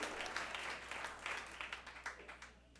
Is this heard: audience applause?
yes